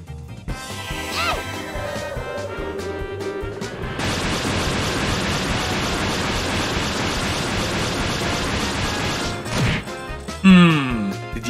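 Big gems smashing in the video game Trails in the Sky: a loud, dense crash of shattering effects over busy game audio, closing with a few sharper bursts.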